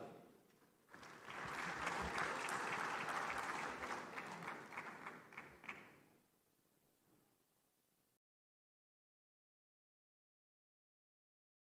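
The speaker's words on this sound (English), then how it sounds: "Please, a round of applause for him." Applause from a conference audience at a large annual meeting: a steady, full round of clapping that thins into scattered claps and then stops into silence.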